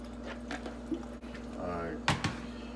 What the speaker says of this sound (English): Drain all the excess water off.